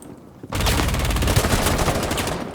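Quiet background, then a sudden burst of rapid, sustained gunfire in Rainbow Six Siege that continues loudly in dense volleys, like automatic weapons.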